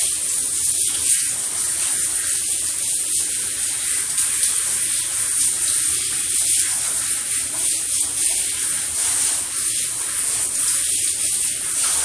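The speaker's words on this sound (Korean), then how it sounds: "아예 샤워기를 물을 흘린 상태에서 계속 헹궈주시면 되세요. 물은 계속 나와요." A handheld shower runs steadily while a British Shorthair cat is rinsed, giving an even hissing spray of water throughout with no pauses.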